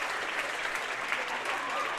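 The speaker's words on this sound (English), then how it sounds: "pausing, too, and giving a nice applause, even in defeat" Spectators in a high school boys basketball gym at Upper Sandusky, Ohio give sustained applause, a dense, steady clatter of many hands clapping from the crowd for the full duration.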